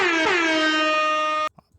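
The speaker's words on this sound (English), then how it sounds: "So here's an air horn." An air horn sound effect played through a Logitech G Yeti GX microphone: one loud, blaring, bright blast lasting about a second and a half, then cutting off abruptly into a couple of faint clicks.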